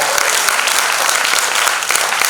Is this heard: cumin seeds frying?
no